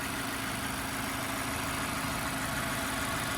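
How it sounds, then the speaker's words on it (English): A 2016 Mazda 6 four-cylinder engine idles smoothly and evenly, a steady low rumble with mid-range hum, moderately loud and unchanging throughout. "Nice and smooth running engine, no odd noises or vibrations"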